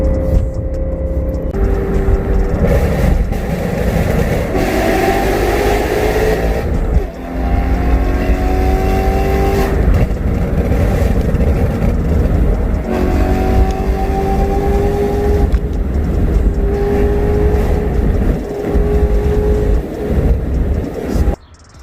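A BMW E92 M3 engine roars and revs repeatedly, pitch climbing through gears with brief drops between pulls, loud and close, no talking.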